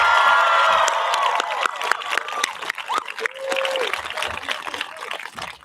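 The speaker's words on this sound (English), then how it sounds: "Can we get a huge round of applause for the intelligent, dedicated, compassionate, talented Mystic Valley class of 2026?" Graduation audience at the Mystic Valley Regional Charter School class of 2026 ceremony, a crowd applauding with dense, steady clapping and some cheering that starts loud and thins out over a few seconds.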